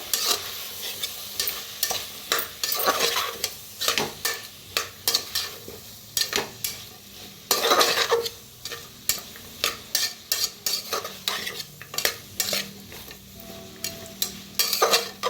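Spiced masala with turmeric and chilli powder roasting in a pan, stirred steadily with a spoon: repeated scraping strokes in an uneven rhythm over a continuous close sizzle, with no talking.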